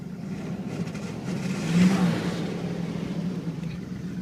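A 1981 Chrysler Imperial Frank Sinatra Edition engine idles just after starting, a low steady rumble with a slight swell in revs midway, heard close and moderately loud.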